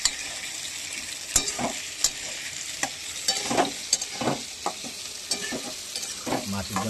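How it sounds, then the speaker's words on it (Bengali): Potatoes and onions fry together in hot oil for a fish dish, giving a steady bright sizzle with scattered scrapes and clatters from stirring throughout. "দেখুন আলু পেঁয়াজ একসাথে ভাজছে"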